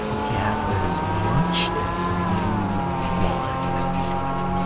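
Car tires squeal during a street race on an expressway loop in the anime Supido no Densetsu, a Nissan Silvia among the cars, with a sustained engine whine and rising tire screech close up and loud, carrying on without a break.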